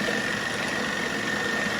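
A 1940s RCA 16mm film projector with a new drive belt starts up, giving a steady mechanical whirring hum with a faint high whine running evenly and close throughout.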